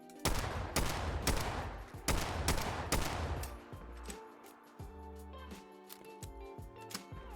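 Large 6520 revolver in Fallout 4 firing several loud, evenly spaced shots, followed by a lighter sequence of clicking and clacking reload sounds.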